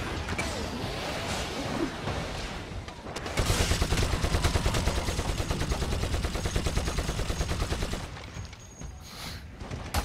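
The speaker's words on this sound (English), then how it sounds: "this weapon, you just hold down the trigger and pray to God that anyone in front of you is the enemy" Sustained automatic weapon fire in Warhammer 40k Eternal Crusade, a rapid stream of shots from about three to eight seconds, loud and close, with mechanical clatter and game ambience before and after.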